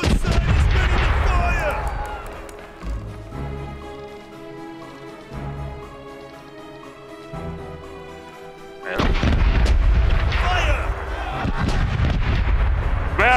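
Booming ship cannon fire in a pirate-themed video game, heavy volleys at the start and again near the end with a quieter stretch of music-like tones between, and a voice talking over parts of it.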